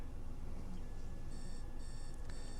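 Alarm clock going off at 7:35 a.m., repeated bursts of high, rapid electronic beeping in short evenly spaced groups, faint and in the background beneath a steady low room hum.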